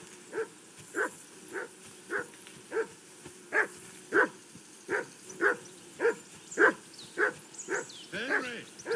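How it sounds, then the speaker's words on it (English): Mutt the dog barks in Kingdom Come Deliverance 2, a steady run of about a dozen evenly spaced barks at moderate distance, ending in a whiny yelp, with no talking over it. "I assume you can hear that damn dog of yours barking"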